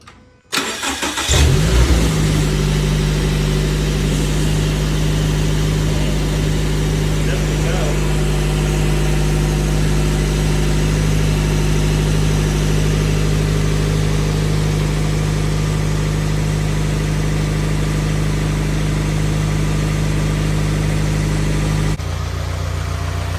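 A Scion FR-S fitted with a GrimmSpeed cold air intake starts up, then settles into a loud, steady idle with a deep engine drone, heard close by with no talking.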